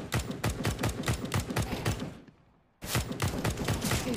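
AK rifle fire in a video game: rapid, loud bursts of shots in a steady rhythm. The firing stops briefly just past the two-second mark, then resumes just as hard.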